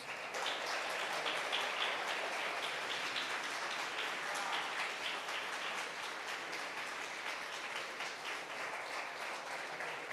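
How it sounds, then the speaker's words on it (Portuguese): Church congregation applauding together after an evangelistic crusade prayer, steady dense clapping filling the room for the full duration, close and sustained without pause. "Aplauda ao Senhor, meus irmãos."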